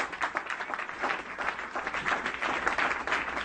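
A church congregation applauds in praise during a French-language worship service, dense clapping sustained throughout at moderate volume, with faint murmurs of voices mixed in.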